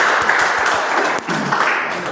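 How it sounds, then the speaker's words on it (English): An audience at a Toastmasters club's milestone meeting applauds in a steady round of clapping, fairly loud and continuous, with a few sharper individual claps standing out. "Let's have a round of applause for Toastmaster Pramina and all the winners."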